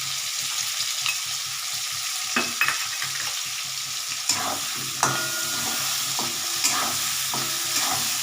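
Potatoes and onions frying in a wok give a continuous close sizzle, broken by scattered scrapes and knocks of a spatula stirring.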